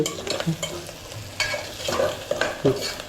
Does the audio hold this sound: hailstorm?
no